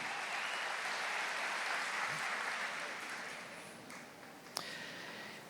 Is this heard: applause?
yes